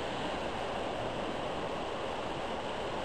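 Water cascades over rocks at Brompton Falls on the Saint-François River at high water, a dense, steady roar of rushing water that fills the whole moment without voices.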